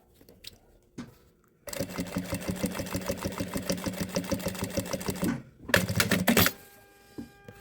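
Sewing machine slowly stitching a quilted fabric pencil case, a close, rapid mechanical chatter running steadily for several seconds, pausing briefly, then resuming in a louder short burst.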